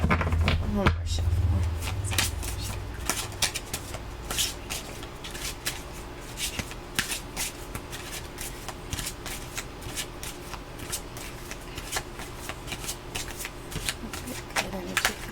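Close, steady hand shuffling of a tarot deck, rapid papery riffles and light card slaps repeating throughout, after a brief bump at the start.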